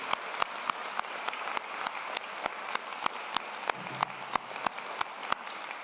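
Audience at a MacEwan University convocation ceremony claps steadily, a sustained wash of many hands with regular sharper claps standing out, moderately loud and without speech.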